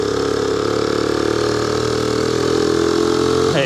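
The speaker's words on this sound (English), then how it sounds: "But yeah, the bike's running nice." A motorcycle engine idles steadily and loud up close, with an even, continuous mechanical throb. A brief shift in tone comes right at the end. No talking.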